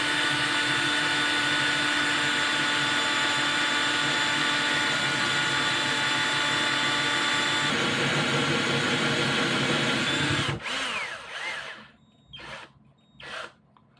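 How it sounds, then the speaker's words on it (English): A power drill bores into a hard deer antler held against a wall, a loud steady whine that runs for about ten seconds, then cuts off and gives way to a few short clunks and handling noises. "you're going to go in the center of your antler and you're going to start drilling"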